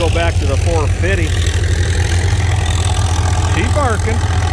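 Farmall tractor engine pulling a heavy frame plow, a loud, close, steady low chugging throb that runs throughout, with people talking over it in bursts.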